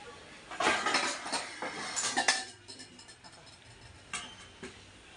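A lid clatters onto a pot of boiling water set up to steam coriander vadi, with a burst of metallic clanks and rattles, then quiet with a few faint later clinks.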